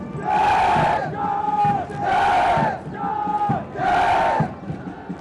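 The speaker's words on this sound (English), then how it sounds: "They cheer the cadets of the passing out course" National Defence Academy cadets at a passing out parade give three loud unison cheers in a rising, rhythmic pattern, each one a sustained shout with short pauses between.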